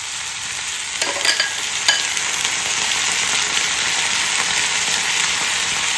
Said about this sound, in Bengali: এর সাথে এই যে ডালটা যেটা আমি নিয়েছি এর সাথে এখন এটা একটুখানি আমি ভেজে নেব